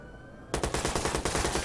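Rapid automatic gunfire aimed at police in the video game Watch Dogs starts suddenly after a near-silent moment, then continues as a loud, steady run of close, crackling shots.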